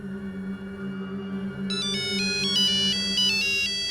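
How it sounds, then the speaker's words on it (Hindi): An incoming call triggers a mobile phone ringtone, an electronic melody of bright, stepping tones that starts partway through over a low steady hum and keeps looping to the end. "सर का फोन।"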